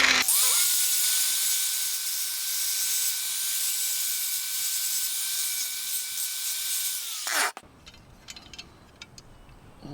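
Hissing abrasive scouring of paint from a rotten 1956 VW Beetle engine tin, a loud steady high-pitched whine for about seven seconds before it cuts off, leaving faint clatter.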